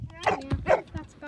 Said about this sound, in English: He's a cute little dog.